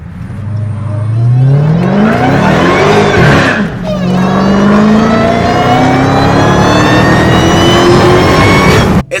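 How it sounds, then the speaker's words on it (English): Dodge Charger Hellcat V8 with a new exhaust and intake, revving hard under load, loud and close from inside the car, rising in pitch twice with a brief drop between, then building to a sustained high roar. "hear the exhaust, hear the intake under load"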